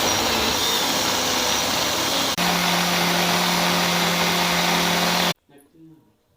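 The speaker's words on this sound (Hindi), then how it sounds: "वीवर्स, 2 से 3 मिनट हम ब्लेंडर चलाएंगे।" A kitchen blender runs while making carrot juice. Its loud, continuous motor whine holds steady for about five seconds, then cuts off sharply, leaving faint, quiet sounds.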